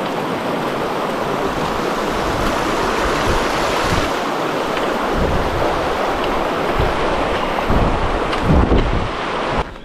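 Rushing water of a cold river on the Laugavegur trail in Iceland, a steady broadband roar that fills the whole clip, close and loud, with wind buffeting the microphone and no talk.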